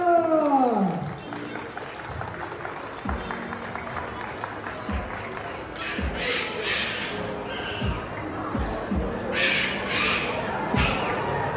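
Audience giving lively applause after a cobra-handling demonstration, steady clapping with a few voices and a shout at the start, continuing fairly evenly throughout.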